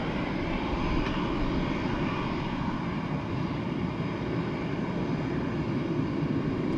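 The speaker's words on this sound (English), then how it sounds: "So Aer Lingus A330 with the older of the liveries." Jet engines of an Aer Lingus Airbus A330 at Dublin Airport roar steadily and loudly for the whole stretch, a broad even rumble with no voices over it.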